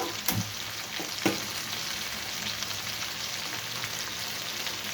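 Bitter gourd pieces sizzle and fry steadily in a pan for kurma, a close, continuous crackling hiss with a couple of brief stirring knocks near the start, no voices.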